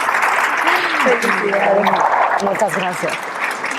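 An audience applauds for an actress at a conference, a steady wash of clapping running beneath someone speaking briefly over it.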